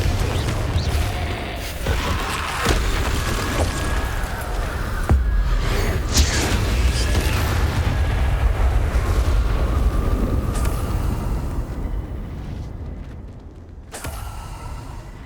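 Repeated fiery spell blasts from Confringo in the Hogwarts Legacy video game, heard as loud rumbling booms and crackling bursts over a dense, continuous game soundscape with creaks and mechanical clatter, fading slightly toward the end.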